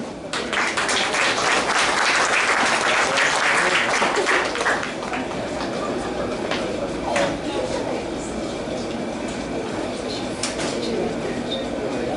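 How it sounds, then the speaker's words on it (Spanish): Audience at the 78th anniversary of a Spiritist lecture hall in El Salvador applauding to welcome a speaker, a loud, sustained burst of clapping that stays dense throughout, with murmured voices in the room. "Denle un fuerte aplauso."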